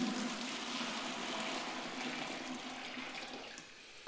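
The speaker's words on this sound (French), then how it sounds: "je verse dans mon seau." Water pours steadily into a bucket while wallpaper paste is being prepared, a continuous close splashing rush that eases off slightly toward the end, with no voices.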